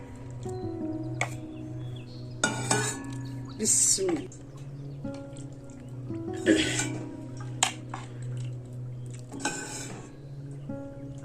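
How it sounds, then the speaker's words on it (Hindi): Dishes and cutlery clink in sharp, scattered bursts as gulab jamun are served in a home kitchen, with quiet gaps between the knocks and a faint low hum underneath. "अब हम डिश आउट कर रहे हैं।"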